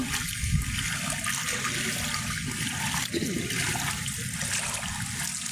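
Severe flood water rushes in Calumpit, Bulacan, a continuous loud churning roar of moving water with a steady, unbroken wash.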